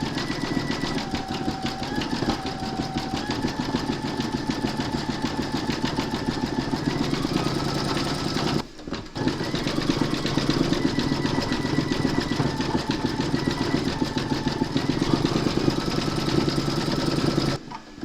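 A computerized embroidery machine stitches a large mermaid applique with metallic thread, giving a steady, close mechanical whir with a rapid needle rhythm that runs almost unbroken apart from one brief pause midway.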